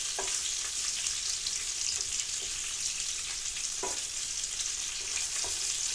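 Coconut shrimp frying in a pan give a steady, dense sizzle that fills the whole clip, with a few soft clinks of turning in the pan, close and continuous with no voices.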